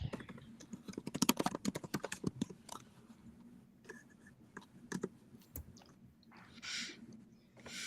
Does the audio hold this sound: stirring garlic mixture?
no